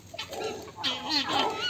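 Chickens and guinea fowl cluck and chatter close by as they peck at cashew leaves dropped for them, a short burst of mixed, overlapping bird calls.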